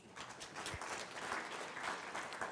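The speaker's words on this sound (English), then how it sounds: "A round of applause, please" A conference audience at a sustainable energy launch event in Kigali breaks into a round of applause, a steady wash of many hands clapping at moderate distance with no talk over it.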